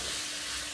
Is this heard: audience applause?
no